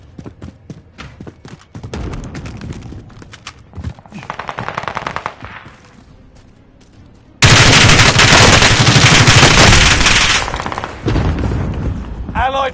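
An airstrike and gunfire erupt in a shooter video game: rapid bursts of automatic fire, then a loud sustained barrage of blasts, with a player talking over parts of it.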